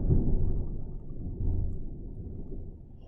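Deep thunder rumbling outdoors during a storm, a steady low roll that swells and fades across the whole stretch with no other sounds over it.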